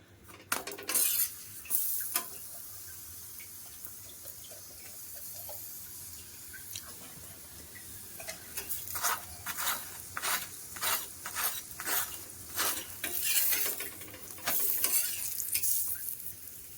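Palak paratha cooking in ghee on a tawa, a soft sizzle with intermittent clinks and scrapes of a spatula, quiet at first and then busier, with clusters of sharp metallic taps toward the end.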